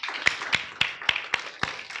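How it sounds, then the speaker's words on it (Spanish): A church congregation applauding during a sermon, heard as about seven separate, evenly spaced claps, moderately loud and close. "¿Le podremos dar un aplauso fuerte al Señor?"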